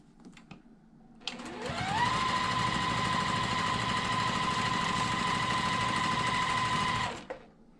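A sewing machine stitches a quilt block, speeding up into a steady, loud, close motor whine and needle rattle that holds for about five seconds, then winds down, with faint handling noises before it starts.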